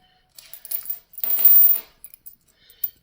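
Metal screws for assembling a multipurpose kitchen table are handled and jingle together, a few light clinks followed by a longer rattling burst of small metal parts and then scattered taps, close and fairly quiet, with no talking.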